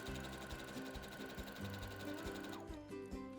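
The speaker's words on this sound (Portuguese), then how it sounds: "E faço um arremate, que é essa costurinha, quando eu volto um pouquinho para trás, para que ele fique bem firminho" A sewing machine stitches and then runs a short backstitch to lock the seam, a close, rapid mechanical chatter that shifts and slows near the end.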